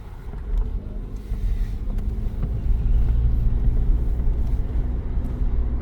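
Car driving along a road in New Zealand, heard from inside as a steady low engine and road rumble with some wind buffeting, close and continuous.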